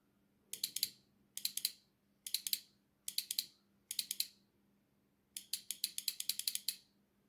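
An electromechanical relay switches, its contacts snapping in sharp, close clusters of rapid clicks. Six separate bursts are divided by short silences, with the last one longer.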